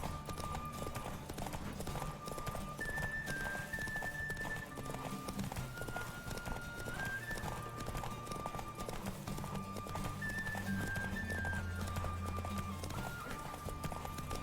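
A horse gallops in The Witcher 3 during a race, its steady clip-clop hoofbeats running throughout, mixed with game music and faint effects.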